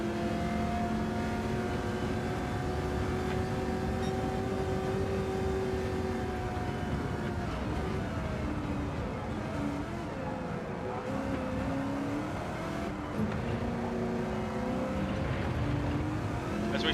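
A V8 Supercar in a racing video game screams down the long back straight at Road Atlanta, a steady high engine drone with pitch sliding as gears shift, loud and continuous throughout.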